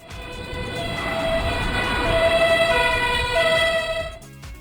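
A fire engine siren wails in steady rising and falling tones over low engine rumble, loud and close throughout, ending abruptly.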